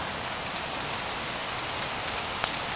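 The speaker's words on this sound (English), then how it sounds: "It's raining really, really hard" Heavy rain pours down during a historic South Carolina flood, a dense, unbroken hiss with one brief sharp tap near the end and no talking.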